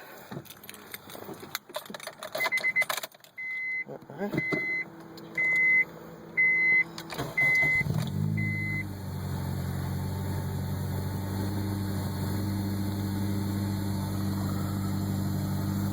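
A 2002 Acura RSX Type-S gives a series of evenly spaced electronic chime beeps, then its engine cranks, catches and settles into a steady, even idle that carries on alone to the end.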